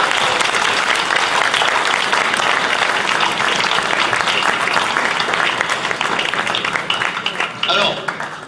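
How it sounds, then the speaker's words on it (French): Audience applause at an academic final of a 24-hour innovation competition, honouring young teams: dense, steady clapping from a full room holding strong for about eight seconds before tapering at the end. "Et là, je propose aux jeunes de les applaudir."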